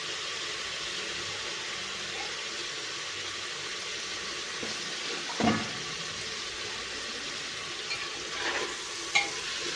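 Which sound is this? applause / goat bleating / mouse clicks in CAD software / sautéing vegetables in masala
sautéing vegetables in masala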